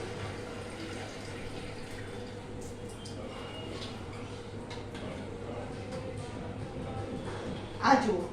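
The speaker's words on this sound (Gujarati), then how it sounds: "એમાં હજુ થોડું પાણી જશે." Water pours into a 1.5-litre pot while kadhi is being prepared, a steady close filling trickle that runs continuously and ends with a brief louder splash.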